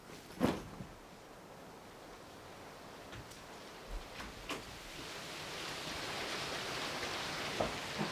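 Steady rain falls outside a motel room, a broad hiss that slowly swells over the seconds, with a few soft knocks and rustles near the start and middle.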